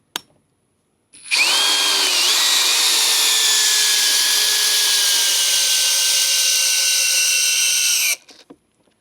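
A Metabo HPT DV36DC cordless drill drives an 8-inch fastener into wood, a loud, steady high-pitched motor whine lasting about seven seconds that starts and stops abruptly, with faint clicks before and after.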